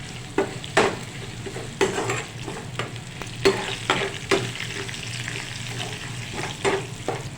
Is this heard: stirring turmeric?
yes